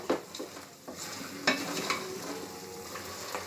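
Chicken pieces stirred in a pan with turmeric, salt and oil, giving a soft frying sizzle under several scraping strokes of a utensil against the pan and a sharp clink at the end.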